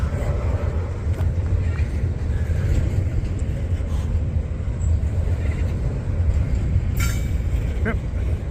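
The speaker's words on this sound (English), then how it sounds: "that eastbound train is approaching" Heavy, continuous rumble of an approaching eastbound Norfolk Southern intermodal freight train, loud and steady, with rail clatter and a few faint higher squeals near the end.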